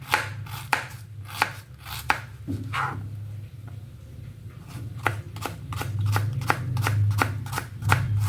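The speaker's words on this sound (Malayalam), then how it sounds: "അത് നന്നായിട്ട് നേരിയതായിട്ട് അരിഞ്ഞെടുക്കണം." A knife finely chops ingredients on a board, with quick, crisp strikes in uneven bursts that are close and clear over a low background hum, and no one speaking.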